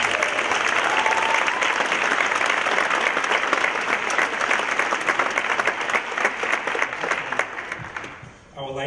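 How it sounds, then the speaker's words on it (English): Loud, sustained clapping from a large audience at a fashion night event fills the space, then tapers off near the end. "So can we give him a round of applause?"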